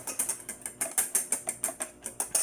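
A wire whisk beats cream by hand in a chilled bowl, giving brisk, steady swishing strokes at about five per second. The sound is close and continuous, with no one talking.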